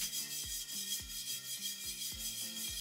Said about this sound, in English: I'm going to wipe down the surface using some rubbing alcohol.